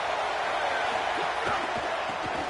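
A college football stadium crowd at a Texas A&M versus Washington game roars in a dense, sustained wash of cheering and noise that fills the whole stretch at steady loudness.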